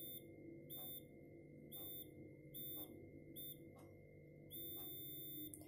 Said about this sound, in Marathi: ही काठी या प्रकारे बीप देते